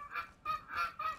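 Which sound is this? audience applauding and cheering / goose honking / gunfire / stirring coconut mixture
goose honking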